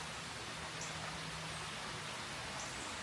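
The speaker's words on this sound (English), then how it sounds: "Not super heavy, but it's raining." Light rain falls steadily, a soft continuous hiss of drops that stays even and unbroken throughout, with no voices and only a faint low hum underneath.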